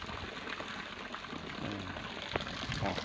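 A solar-powered water pump pushes water through a pipe in a wide open field, giving a steady close rushing and gushing of flowing water with small splashes and bubbling throughout.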